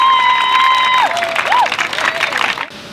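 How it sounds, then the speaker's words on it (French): Audience applause for Monsieur Sylvestre Kamoussou at an open-air African cinema event, a broad crowd clapping with a few tonal whistles and chirps over it, fading near the end. "On peut applaudir s'il vous plaît, Monsieur Sylvestre Kamoussou."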